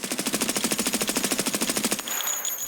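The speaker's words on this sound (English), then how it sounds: "So we'll shoot the first mag, reload, and shoot the second one." Rapid full-auto fire from a Val rifle in Escape from Tarkov, an even, fast stream of shots lasting about two seconds that stops abruptly, followed by faint mechanical clicks.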